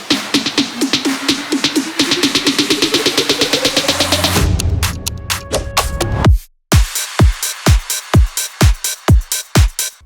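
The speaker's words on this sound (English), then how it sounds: "You can use that to give your snare build-up a little more energy and movement." Pitched snare sample build-up played from Ableton Live Sampler: rapid electronic snare hits climb steadily in pitch and speed for about four seconds, then give way to a loud full mix with punchy, regularly spaced drum hits.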